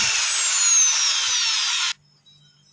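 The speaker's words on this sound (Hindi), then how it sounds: "स्क्रू के अंदर होल कर रहे हैं।" A small electric drill whines steadily and loudly for about two seconds while boring into a broken screw on a Bajaj Frio air cooler, then cuts off abruptly, leaving near silence with a faint click.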